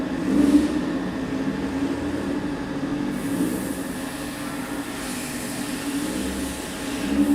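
An EMPI race engine warming up on a dyno at an engine battle competition, producing a steady, loud low drone without any sharp revving, heard alone with a constant rumble throughout.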